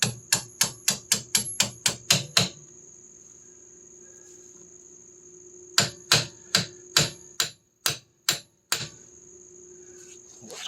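Metal hammer strikes on the rear leaf spring of a 1976 Triumph Spitfire 1500, two runs of about ten sharp ringing blows each in quick rhythm, loud and close, separated by a quiet pause with a faint ringing tone.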